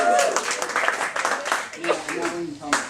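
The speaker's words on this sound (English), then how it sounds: "Yes, that deserves applause." Audience clapping at a cake-themed convention talk, a brief burst of applause from a crowd that swells and fades over a few seconds, mixed with murmuring voices.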